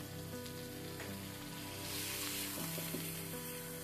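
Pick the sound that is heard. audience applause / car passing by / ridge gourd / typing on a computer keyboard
ridge gourd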